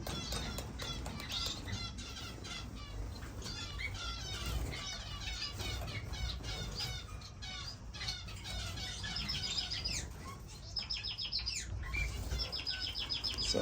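Owl finches in an indoor bird room give a dense chorus of quick, high chirps and twitters, many overlapping, fairly faint and continuous throughout.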